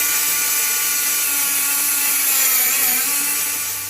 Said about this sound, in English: we're going to drill out the arms all the way through